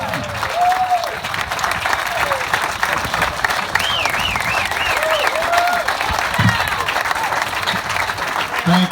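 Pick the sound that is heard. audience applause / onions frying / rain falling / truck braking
audience applause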